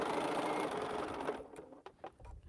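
Sewing machine stitching quilt block seams, a steady close whir for about a second and a half that stops, followed by faint clicks and handling.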